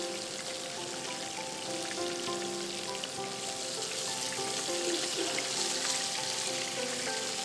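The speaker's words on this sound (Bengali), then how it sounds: "তো আমাদের চিকেন একদম ডিপ ফ্রাই" Chicken deep frying in hot oil, a steady, dense crackling sizzle that holds evenly throughout at close range, with no talking.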